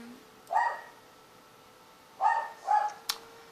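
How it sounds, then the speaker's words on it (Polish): A dog barks three times, one single bark followed by a pause and then two quick barks close together, moderately loud and nearby, with no one talking over it. "niech szczeka, tak no, kurwa jebany pies"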